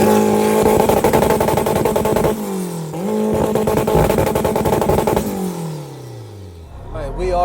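A 900hp nitrous-injected Toyota MR2 revs hard and pulls through the gears, its loud engine note rising and falling close by and then dropping away as the car slows, with voices audible over it.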